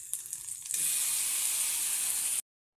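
Corned beef drops into a hot pan with pansit-pansitan leaves, the light frying suddenly swelling into a loud, steady sizzle that cuts off sharply after a couple of seconds.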